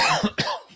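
A man's cough, one harsh burst followed by a second, close and loud, with a brief throaty tail at the end.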